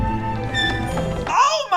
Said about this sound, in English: Fridge doors do not sound like this.